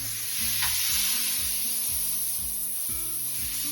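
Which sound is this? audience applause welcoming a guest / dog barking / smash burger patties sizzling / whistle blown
smash burger patties sizzling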